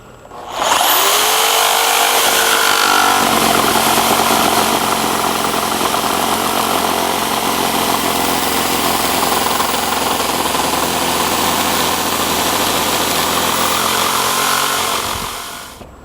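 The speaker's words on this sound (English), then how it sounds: "made like a little jig just so I can operate the jigsaw" A jigsaw cuts a deck board guided along a clamped homemade jig, a loud, steady buzzing motor that runs continuously for about fifteen seconds, close by, with no talking.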